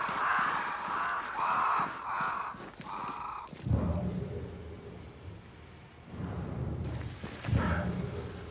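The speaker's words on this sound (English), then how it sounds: "crows. They flock to that great tree up there." Crows caw in the game Banishers: Ghosts of New Eden, about four loud, harsh calls in quick succession, followed by a low, rumbling ambience.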